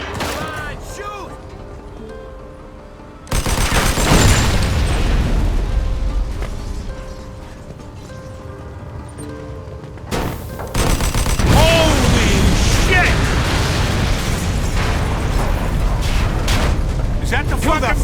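Gunfire shootout in the Mafia 2 video game, with loud bursts of shots and booms starting around a third of the way in and returning later, heavy and continuous over game music, with voices talking in between.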